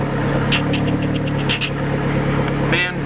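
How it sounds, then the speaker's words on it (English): Neon SRT-4 car engine running at a fast, steady high idle while warming up, a continuous mid-pitched hum with faint rattles and a brief voice near the end. "You can tell it's needs to warm up because it's obviously high idling"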